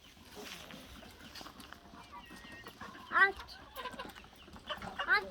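Chickens clucking on a farm with turkeys and ducks, several short, scattered clucks and squawks, near and moderately loud, over faint background chatter from people.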